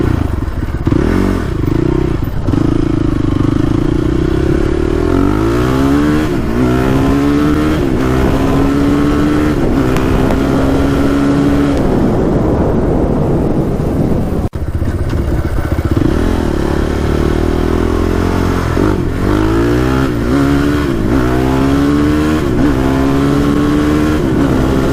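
A Honda TRX450r ATV engine screams at full throttle and revs up through the gears again and again in repeated rising sweeps. It is loud and close throughout, with clattering and wind noise and no talking.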